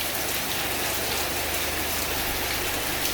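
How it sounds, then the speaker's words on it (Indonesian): Heavy rain pours down in a dense, unbroken hiss of drops hitting surfaces, loud and close and steady from start to end, with no voices. "Hujan masih terus saja turun dengan derasnya"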